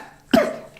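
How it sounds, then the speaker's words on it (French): A single sharp cough, close and loud, from a man during a quiet moment, with a short throaty tail fading out. "J'en ai marre de tousser"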